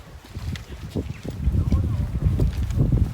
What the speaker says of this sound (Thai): ลมแรงก็ขอโทษขออภัยน้องเพื่อนนะ มันก็จะมีลมเป็นพักๆ เป็นบางช่วงจ้ะ